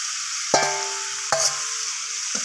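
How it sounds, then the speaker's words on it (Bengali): Jackfruit sautéing with potatoes and spices in a pan, a steady sizzle punctuated by three sharp stirring clanks of a utensil against the pot. "তো এঁচড়গুলোকেও আমি আলুর সাথে আর সমস্ত মশলার সাথে কষিয়ে নিচ্ছি"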